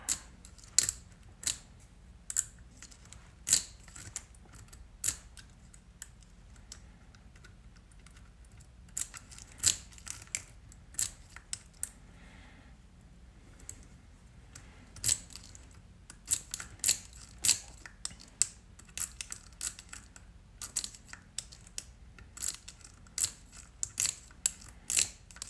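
A pin-tumbler lock being picked and turned, a GM 6-cut automotive lock, with sharp metallic clicks and ratcheting ticks in irregular bursts, close up and alone over quiet room noise.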